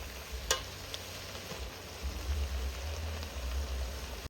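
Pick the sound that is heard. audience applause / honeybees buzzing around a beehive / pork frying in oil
pork frying in oil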